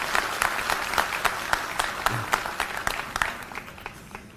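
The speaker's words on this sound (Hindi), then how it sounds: "एक बार जोरदार तालियां हमारे सभी माता और बहनों के लिए।" Applause at a party workers' meeting honoring the mothers and sisters present: a crowd claps in a steady, brisk patter of individual claps, moderately loud with no talking over it.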